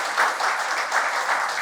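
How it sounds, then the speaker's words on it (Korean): A church congregation claps in encouragement for its next-generation teachers, a steady, moderately loud roomful of applause with gentle swells, many hands clapping together without pause. "우리 선생님들께 격려의 박수로 응원해 주시면 감사하겠습니다"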